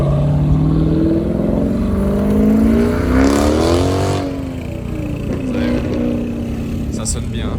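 A Mercedes 63 pulls away with a deep, rising engine note, its pitch sweeping up through the gears as it recedes, amid steady outdoor background noise.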